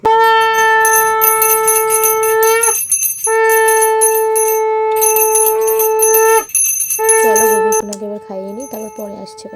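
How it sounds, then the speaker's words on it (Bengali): A brass hand bell rings loudly and steadily in close, sustained bursts during a home puja aarti, with brief pauses between bursts. A conch tone is not distinct, and softer sounds trail off near the end. "এবার কিন্তু আমি শাকটা আর ঘন্টাটা বাজিয়ে নিই"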